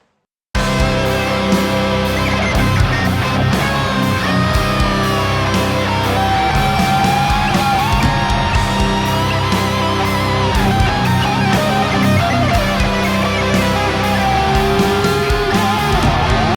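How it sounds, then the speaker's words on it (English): Loud, dense death metal with heavy distorted guitars, pounding drums and bass, and a lead guitar solo weaving over the top, recorded through a Marty Friedman signature SansAmp. "with the heavy death metal guitars, the tapestry on top, the bass, the drums, and this little solo"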